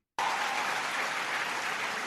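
Applause from a political debate audience starts abruptly and holds as a dense, even roar of clapping, fairly distant and steady to the end.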